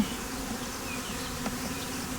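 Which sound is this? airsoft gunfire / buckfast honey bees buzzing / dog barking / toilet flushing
buckfast honey bees buzzing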